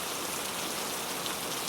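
Steady, dense rain hisses on surfaces without a break, an even wash of falling water heard alone.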